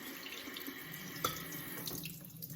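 Tap water runs steadily into a sink while mixed greens for a Southern New Year's dish are rinsed, a continuous close splashing hiss with no voices.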